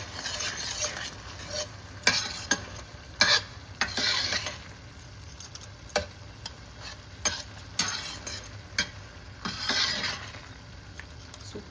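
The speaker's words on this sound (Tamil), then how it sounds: "நல்லா காயெல்லாம் மசிச்சுக்கலாம். சம்மூர் பட்டர் மேலே அப்படியே ஆட் பண்ணிக்கிறோம்." Pav bhaji vegetables are mashed with butter in a hot pan, with repeated scraping and clacking strokes of a utensil over a low, steady sizzle.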